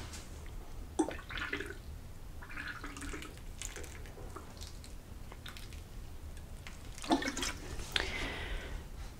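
Water trickles and splashes in short, uneven pours onto soil in a pot of freshly planted amaryllis bulbs, fairly quiet, with a few louder splashes and gentle dripping between them.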